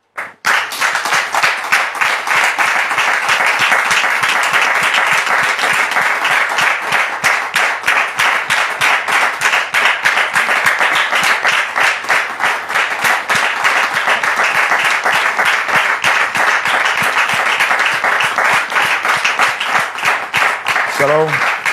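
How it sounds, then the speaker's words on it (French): Long sustained studio audience applause and clapping welcoming guests onto a French Christian talk show set, loud and steady throughout, with a brief voice at the very end. "je voudrais vous demander ici et maintenant de recevoir les invités d'Annick sous vos applaudissements"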